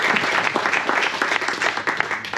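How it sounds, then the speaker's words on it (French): An audience at a poetry reading applauds itself with loud, close clapping, dense and continuous, with a few sharper individual claps throughout. "Vous pouvez vous applaudir"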